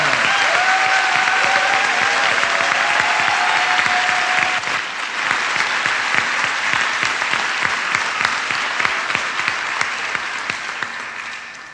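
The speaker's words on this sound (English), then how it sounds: "Let's give him a round of applause." Sustained audience applause fills a historic church during a South Carolina town hall on education and criminal justice, dense and loud throughout, with a few raised voices briefly audible early on before the clapping carries on alone.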